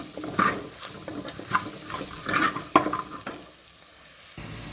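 Chilli masala fries in a pan with a little oil for an ivy gourd palya, crackling under irregular stirring scrapes and then easing to a quieter sizzle at the end.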